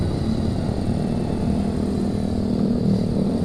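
Steady, moderately loud exhaust drone from a Suzuki Satria F motorcycle, a continuous low humming engine note without revs or pauses, heard alone.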